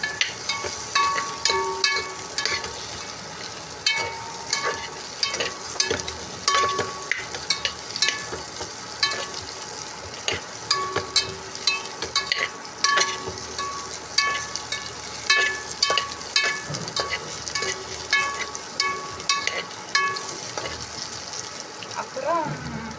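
Chilies sizzle and crackle in hot oil in a pan while being stirred for sambar rice, a steady frying hiss broken by repeated scraping stir strokes and occasional water-like splashes, close and continuous throughout.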